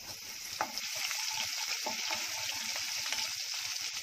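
Mustard seeds and crushed garlic cloves sizzle steadily in hot oil, a dense crackling hiss with a few sharper pops and stirring scrapes, close and continuous with no talking.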